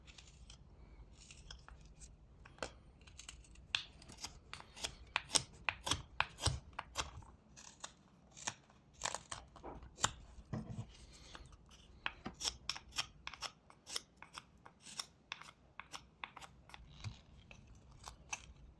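Knife making shallow, gentle sweeping cuts into wood while whittling a small beaver figure, giving a steady run of short, crisp scraping strokes close by and fairly quiet, with no talking.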